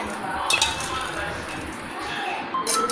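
A spoon stirs lemon juice in a glass, giving light clinks and taps against the sides, with a couple of brighter chinks over a soft, steady background.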